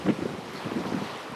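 Wind buffets the microphone on an evening beach, a low, rumbling, steady roar with a few gustier thumps near the start and surf-like noise underneath.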